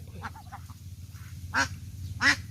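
Ducks on a laying-duck farm quack nearby, a few short calls early followed by two louder, distinct quacks, over a low steady background hum.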